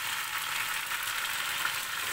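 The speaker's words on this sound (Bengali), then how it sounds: "জল দিয়ে ভালো করে মশলা করে কষিয়ে দিচ্ছি" Spices sauté with cauliflower and pointed gourd in a pan, giving a soft, even sizzle that holds steady throughout without stirring clatter or voices.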